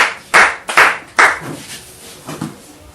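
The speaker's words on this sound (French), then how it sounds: "On peut acclamer le Seigneur ce matin." A church congregation claps in a worship service to acclaim the Lord, with several loud bursts of hand claps followed by softer, scattered clapping.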